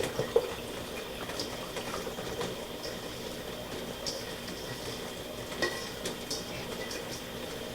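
Hot peppers for pickled rings are rinsed under running water, giving a steady, close wash of flowing liquid with light clinks and splashes throughout.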